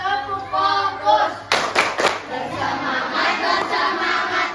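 Schoolchildren in a classroom perform a rhythmic group clapping routine, a short burst of sharp, near claps amid chanting voices and classroom chatter.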